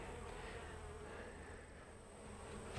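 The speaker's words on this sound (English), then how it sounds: "So here's the bees we're introducing." A steady, faint buzzing of many honey bees from a nuc hive, a low drone that holds evenly throughout with no voices.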